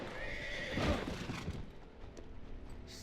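A horse in Assassin's Creed III whinnies loudly near the one-second mark amid clopping hooves and game ambience, the neigh rising briefly before fading into lighter hoofbeats and background noise.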